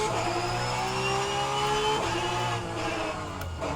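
A Porsche 992 race car in rFactor 2 at Laguna Seca accelerates with a loud, steady engine drone, pitch climbing through gears and a shift near the midpoint, alone without voices.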